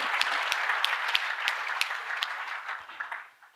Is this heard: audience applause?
yes